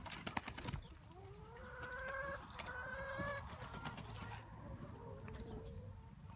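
Several chickens cluck and make drawn-out calls nearby, their voices rising and falling over a faint background of rustling and clatter.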